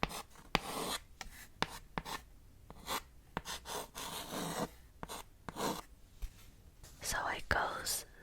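A pen writes Chinese characters on paper in soft, close scratching strokes and taps, with quiet whispering in between.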